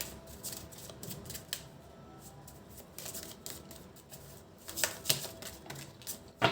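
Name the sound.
tarot cards being shuffled and drawn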